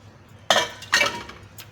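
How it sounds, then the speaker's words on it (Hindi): Mutton pieces dropped into a metal pressure cooker make two sharp, close metallic clinks about half a second apart, followed by a faint rattle. "तो चलें डालते हैं इसको प्रेशर में। सबसे पहले इसमें डालेंगे गोश्त"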